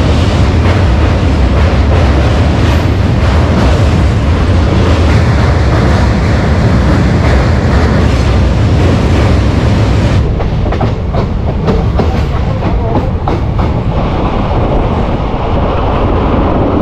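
The Teesta Torsha Express rumbles across the Ganga river bridge, loud continuous rolling with rhythmic clickety-clack of wheels on rails and wind buffeting the microphone, recorded from aboard the moving train.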